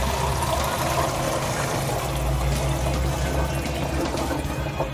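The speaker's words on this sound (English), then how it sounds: "Pour the tea into a watering can or a basic pressure sprayer if you prefer." Compost tea poured steadily into a watering can makes a continuous, fairly loud splashing and gurgling liquid sound with no pauses.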